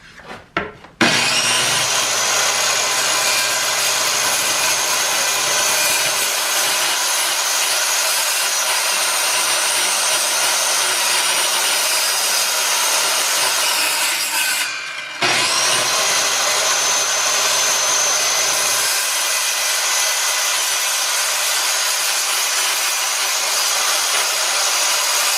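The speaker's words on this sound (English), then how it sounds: "I'm going to cut both of these lines with the circular saw" A circular saw rips two long cuts through a board, each a loud, continuous whine lasting about fourteen and ten seconds, with a brief gap between them as the blade spins down and starts again.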